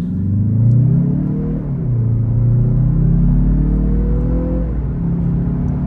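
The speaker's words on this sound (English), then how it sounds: "what we're going to do is the obvious 0 to 60. We're going to flip it into sport mode" A 2024 Mazda CX-30 Turbo in sport mode launches from a standstill to 60 mph, its engine droning loud and close as the revs climb, drop at each gear shift and rise again through two shifts.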